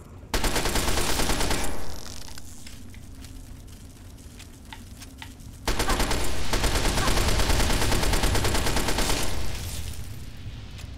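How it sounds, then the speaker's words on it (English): Bursts of automatic gunfire in Fallout 3 rattle loud and close, two long sustained volleys separated by a quieter stretch with scattered shots, against a battle with giant ants. "automatic fire really does a number on these guys"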